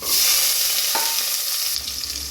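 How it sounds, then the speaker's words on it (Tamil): Sliced onions dropped into hot oil with fennel, cinnamon and cumin, a loud continuous hiss of frying that swells as they go in, with one brief clink of a utensil partway through. "இப்போ எல்லாம் பொரிஞ்சிருச்சு. வெங்காயத்தை சேர்த்துக்கோங்க."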